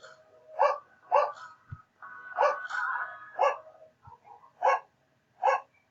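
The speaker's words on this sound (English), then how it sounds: "I'm sorry about the dogs." Several sharp dog barks ring out in irregular bursts, some paired, with whimpering yips between them, moderately distant and alone against a quiet indoor background.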